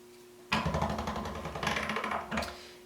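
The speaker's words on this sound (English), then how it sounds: "I'm going to sheet this through my clay conditioning machine on the number 2 setting" Polymer clay sheeted through a hand-cranked clay conditioning machine on a thin setting: a close, steady grinding whir of rollers with a rhythmic crank pulse, starting abruptly, running about two seconds and briefly resuming.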